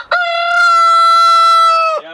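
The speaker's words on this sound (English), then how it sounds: "He's gonna crow all day and all night long." A rooster on a homestead crows once, loud and close, a long sustained harmonic call of about two seconds with a brief rise at the start and a drop-off at the end.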